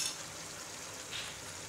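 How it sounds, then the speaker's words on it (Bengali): Spices sizzle softly in hot oil in a pan while cooking chicken biryani, with sugar added, giving a faint steady crackle alone for under two seconds. "সবকিছু আমি এই তেলে একটু ভেজে নেব।"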